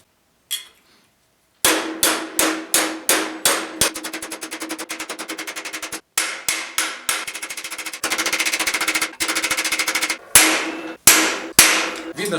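A metal strip being forged into an elbow guard rings under repeated hammer blows, loud sharp strikes in quick rhythmic bursts with brief pauses between runs, close and with no talking.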